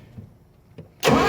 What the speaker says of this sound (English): That backfired bigger than snot.